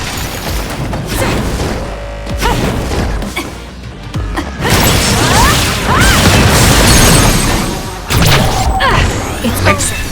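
An explosion in the video game Scarlet Nexus booms with heavy crashes and rumbling impacts, loud and continuous, with layered bursts of debris and whooshes throughout.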